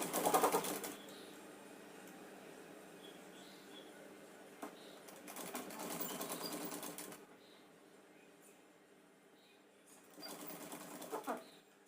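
A sewing machine stitches a folded edge on a Punjabi dress in short bursts, a soft rapid whirring that starts, pauses and resumes at moderate loudness with no speech.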